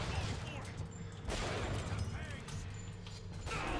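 Sniper gunfire in the BioShock Infinite shooter, dense overlapping shots and impacts rolling through a noisy battle mix, with someone talking over the action.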